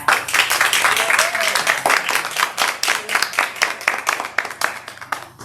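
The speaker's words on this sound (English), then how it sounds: "take just a moment to join me in applause for Rodney" A ceremony audience claps for an honoree at a veterans history donation event, a loud run of distinct hand claps in an uneven rhythm, with a voice briefly heard under it.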